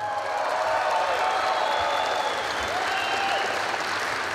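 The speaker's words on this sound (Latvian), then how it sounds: "Vēlreiz aplausi." Sustained applause fills a large arena at the Latvian State Police 94th anniversary celebration, with dense, steady clapping from a big audience running throughout.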